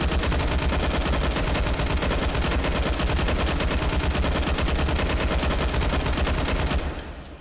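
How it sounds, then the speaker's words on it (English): A G36 rifle in the VR shooter H3VR fires a long full-auto burst from a 100-round magazine, with rapid, dense, loud shots running continuously for about seven seconds before cutting off abruptly. "I might do another full auto 100 rounds from the magazine."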